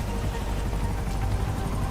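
Helicopter rotor chop from a GTA Online Cayo Perico heist, a continuous dense low thudding drone at steady loudness throughout, close and alone.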